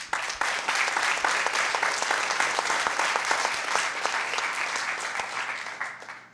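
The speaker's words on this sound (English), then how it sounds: "Let's give AWS a big round of applause." Conference audience at a corporate tech event applauding a cloud partner: loud, dense, sustained clapping from a large room, steady throughout before tapering off at the end.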